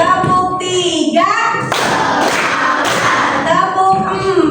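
A class of schoolchildren clapping together in a group clap game used as an ice-breaker, loud, close bursts of clapping mixed with children's voices.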